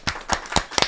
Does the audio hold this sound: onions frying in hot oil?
no